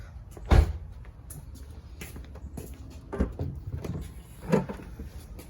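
Mazdaspeed 3 rear hatch being unlocked and opened: three separate clunks and latch sounds spaced a few seconds apart, close by, over a quiet background.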